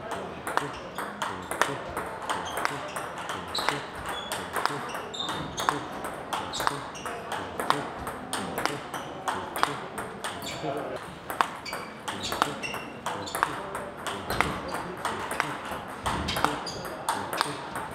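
A forehand-drive rally during a table tennis lesson: the ball clicks rapidly and regularly off the paddles and table, close and crisp, while a coach talks over it.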